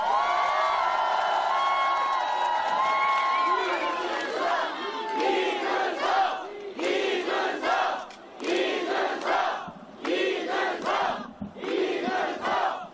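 A crowd at an election rally in Dongtan, South Korea cheers and shouts in rising bursts, loud voices swelling and dropping in waves with whoops, largely without speech.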